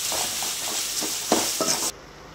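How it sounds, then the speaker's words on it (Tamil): Tomatoes sautéing in a pan with a little rock salt, a steady close sizzle with a few soft stirring scrapes near the end before the sound cuts off abruptly. "தக்காளி வதங்கி கொஞ்சமாக நம்ம கல்லுப்பு சேர்த்துக்கலாம். இது நல்லா வதங்கட்டும்."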